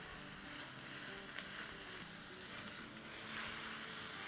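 Chow mein being stirred in a pan with a tablespoon of chili garlic sauce: a steady close sizzle of frying with scattered scraping stir strokes throughout, no voices.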